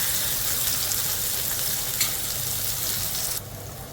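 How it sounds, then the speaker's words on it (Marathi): Onion and tomato fry in hot oil for chicken dum biryani, giving a loud, continuous sizzling hiss with faint stirring scrapes. The sound drops off sharply near the end, and no voices are heard. "मस्त कांदा टोमॅटो असे कडकडीत होऊ द्यायचे तेलामध्ये"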